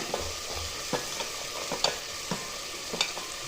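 Peas, potatoes and carrots being stirred in a pan for a mixed vegetable dish: sparse, quiet scrapes and taps of a spoon at irregular intervals over a faint background hiss.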